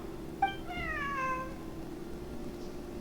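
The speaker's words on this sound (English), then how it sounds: "Wait, where did you get the cat?" A cat meows in the video game Genshin Impact, one drawn-out, falling meow heard clearly and alone over a faint steady background hum.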